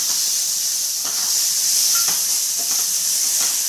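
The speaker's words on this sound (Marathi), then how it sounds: "आता याच्यातच एक टोमॅटो तो पण परतून घेते तेलामध्ये" A tomato fries in hot oil with a constant close sizzling hiss. Faint soft clicks and stirring touches sound now and then underneath, with no talking.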